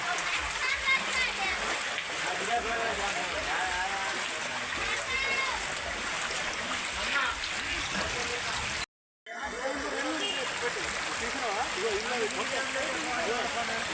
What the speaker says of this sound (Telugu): ఈ ఒర్రే చిన్నపాటి వర్షాలకు ఈరోజు ఒర్రే రావటంతో మరియు ఆ యొక్క ఒర్రే నిండి బ్రిడ్జిపై